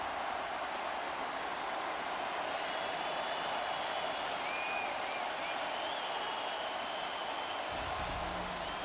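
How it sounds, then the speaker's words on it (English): A hockey crowd cheers steadily during a player fight in the NHL 26 game, a continuous loud roar of applause and cheering with a faint whistle-like tone near the end. "The Silvertips cheering on their player as he goes toe-to-toe in this fight."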